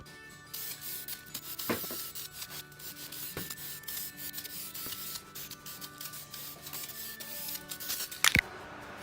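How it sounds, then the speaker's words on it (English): Rust being sanded off bare metal on a 1979 VW Bus during restoration, a steady low rubbing and scraping texture running throughout with a few sharper knocks and a brief louder scrape near the end, no talking. "sand it down just a little bit more on the top, get that rust off there"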